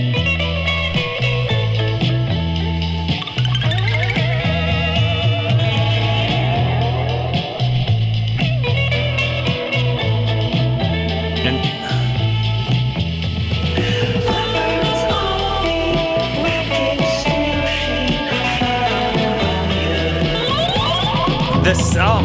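Dense full-band album track, with guitar drenched in delay and reverb ringing over steady bass and drums, loud and continuous throughout.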